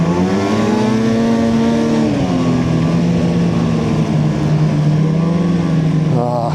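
Freeride 800 snowmobile on a Northern Wisconsin trail, its engine held at a loud, steady high rev with a brief dip and climb in pitch partway through, close and continuous.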